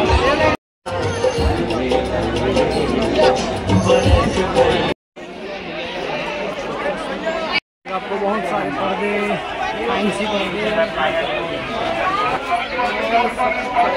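Dense crowd chatter at the Ranitarai mandai fair in Patan, a steady hubbub of many voices around a close narrator who speaks over it, with brief cuts to silence.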